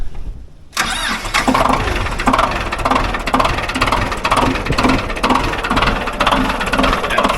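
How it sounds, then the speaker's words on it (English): An old Ford diesel tractor engine that had sat for years cranks briefly, catches and settles into a loud, rough, rhythmic running clatter with some rattle, close by and without speech. "it started right up without glow plugs"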